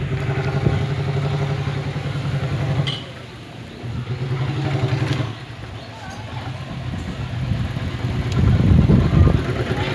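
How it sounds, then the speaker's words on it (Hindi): A Swaraj 733 tractor engine runs at idle with a steady low chugging throb, close and moderately loud, dipping briefly twice and swelling near the end, with someone talking intermittently over it. "बहुत ही दमदार ट्रैक्टर है स्वराज 733।"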